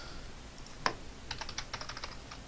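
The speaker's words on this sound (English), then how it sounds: "I'm going to just type all that in and make a decision." Keys on a computer keyboard are typed in a quick run of light clicks after a single sharper tap, close and fairly quiet, with no talking.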